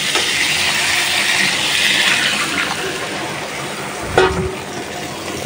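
Local river prawns sauté with winter radish in a pan, giving a loud continuous hiss and sizzle with a clatter of stirring near the end.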